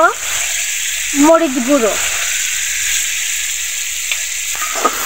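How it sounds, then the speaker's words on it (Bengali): Onion paste with salt, turmeric and chili powder frying in soybean oil for a silver carp curry: steady close sizzling throughout, with a short spoken phrase over it and a few clinks near the end. "সয়াবিন তেলের মধ্যে বেটে রাখা পেঁয়াজ দেওয়া হলো।"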